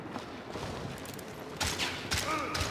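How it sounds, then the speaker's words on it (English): A shotgun firing in a video game, a few sharp blasts toward the end over background game noise and faint voices. "Catch him in there with your shotgun."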